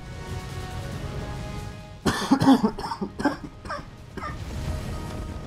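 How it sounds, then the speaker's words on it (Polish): A single burst of coughing breaks in from about two seconds, several harsh hacks over roughly two seconds, close and loud, over a steady electronic game soundtrack from Resogun that runs throughout. "Wybaczcie kaszel"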